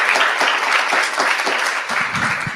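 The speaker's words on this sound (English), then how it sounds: "Can you please give Robin a round of applause, please" An audience at a book talk applauds steadily, a dense, even wash of many hands clapping that continues throughout.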